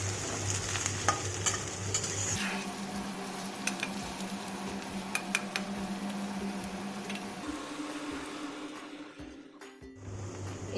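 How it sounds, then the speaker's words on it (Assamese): Sliced onions and green chillies frying in oil in a pan, a continuous close sizzle with spatula scrapes and stirring clicks, a low hum underneath that drops away partway through. "অলপ সময় এনেদৰে ভাজিব লাগিব, পিঁয়াজ জলকীয়াখিনি অকণমান ৰঙচুৱা হোৱালৈকে"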